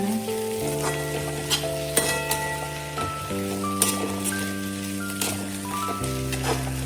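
Onion and green chillies sauté on a high flame with a soft, even sizzle and occasional stirring taps, mostly under louder background music.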